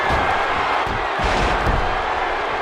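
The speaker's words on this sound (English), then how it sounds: "And listen to this crowd." Arena crowd roaring and cheering during a WWE 2K16 wrestling match, a dense, steady wall of noise that fills the whole stretch with no let-up.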